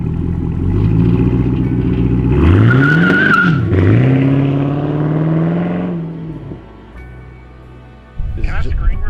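A Chevrolet Camaro engine revs through its exhaust, rising into a loud, climbing roar, dipping and holding a strong steady drone, then easing off to a lower idle with a brief burst near the end.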